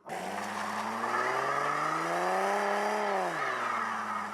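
A car does a burnout with its tires squealing, a loud and continuous shriek as the engine holds high revs, then slides down in pitch near the end.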